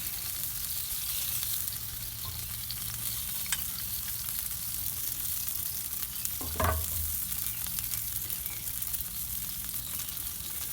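BBQ spare ribs being basted with orange soda barbecue sauce on a grill give off a steady, even sizzle throughout, with one brief louder thump partway through.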